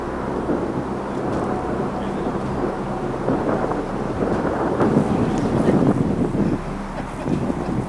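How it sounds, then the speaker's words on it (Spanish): Strong wind and heavy rain lash London, a loud, continuous broadband roar with deep rumbling gusts that swell and ease. Faint voices are buried under the storm noise. "Debido al fuerte viento y la intensa lluvia en Londres"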